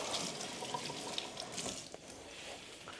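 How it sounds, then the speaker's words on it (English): Running tap water splashing over serrano peppers in a sink, a soft continuous rushing and spattering, close and faint. "And rinse these off."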